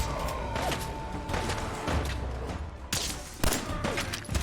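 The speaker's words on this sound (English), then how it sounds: "I'm getting shot at" Gunfire in the Fallout 4 video game, a continuous dense barrage of shots and thuds at moderate loudness, with a few sharper cracks standing out, heard without talk.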